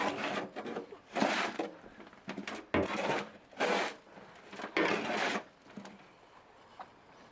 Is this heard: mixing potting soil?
yes